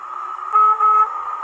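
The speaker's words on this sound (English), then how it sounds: "Car horn there, obviously." A model railway sound module's car horn sounds steadily, with two louder blasts near the middle of its continuous honk.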